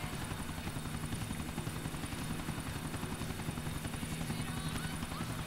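A helicopter idling in the video game GTA 4 gives a steady, dense rotor chop, a continuous whirring thud with even rhythm, loud and close, holding without break throughout.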